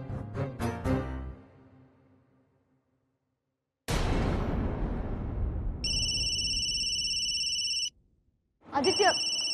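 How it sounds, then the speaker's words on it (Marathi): A mobile phone ringtone sounds for an incoming call in a Marathi TV drama episode. A bright electronic tone pattern plays for about two seconds, stops, then starts again, after a sharp music sting. "आईचा फोन येतोय."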